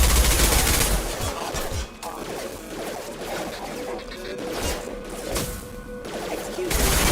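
Gunfire in Mass Effect Legendary Edition: dense bursts of shots and impact crashes rattle through a loud, busy battle mix for several seconds, with no clear speech over it.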